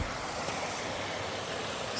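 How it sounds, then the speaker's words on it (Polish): Continuous rushing water, a dense steady roar of a fast-flowing, deep river near Harrachov and Rokytnice nad Jizerou, heard close by, with no breaks. "Woda płynie, tu jest głęboko"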